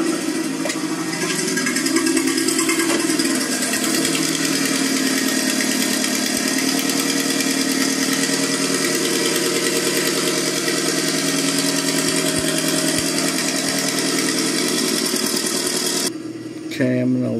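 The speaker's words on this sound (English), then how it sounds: "This thing's got an engine problem, so this thing rattles a little bit." A car with an engine problem idles steadily and close, a constant mechanical drone carrying a faint rattle throughout before cutting off near the end.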